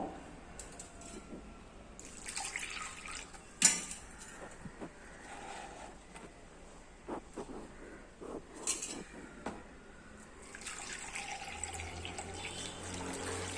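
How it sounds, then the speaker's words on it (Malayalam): Water is poured into a plastic container in short, fairly quiet splashy bursts, with occasional clinks and knocks of kitchenware. "ഇനി ഇതിലേക്ക് നമ്മൾ നിറച്ച് വെള്ളമാണ് ഒഴിച്ചു കൊടുക്കുന്നത്"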